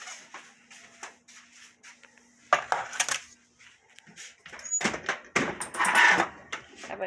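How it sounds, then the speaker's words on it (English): A metal baking pan loaded with raw biscuits clatters and scrapes as it goes onto an oven rack above a pizza stone, with a few clinks and knocks around soft kitchen movement. "we're going to put these in the oven"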